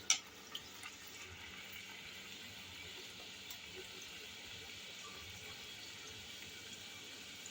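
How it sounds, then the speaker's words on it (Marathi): Spinach chakli frying gently in hot oil over a very low flame gives a faint, steady fizzing sizzle that holds evenly throughout, with a couple of soft clicks at the start. "आपली चकली आपण तेलामध्ये सोडून घ्यायची आणि मंद गॅसवरती, एकदम मंद गॅसवरती आपण तिला तळून घेणार आहे"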